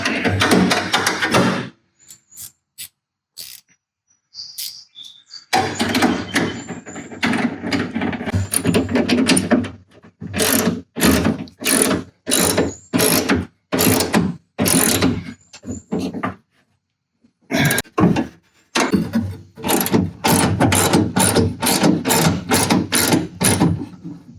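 Fasteners are tightened during a manual window crank swap in a car door, heard as loud, close bursts of mechanical ratcheting and whirring in quick repeated pulses separated by short pauses.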